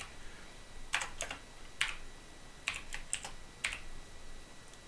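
Commands being typed on a computer keyboard: quiet, close clusters of key taps in short bursts with brief pauses between them, heard alone against a low, faint background.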